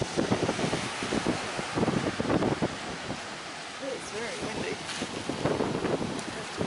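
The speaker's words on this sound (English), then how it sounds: "It is quite breezy." Breezy wind blows steadily across a drivable beach on Amelia Island, a broad rushing hiss with gusty swells, and voices talk intermittently over it.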